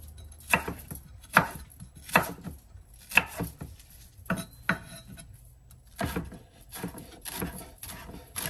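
Celery being finely chopped with a knife on a board, a series of sharp, close taps in irregular bursts with short pauses between them, no voices.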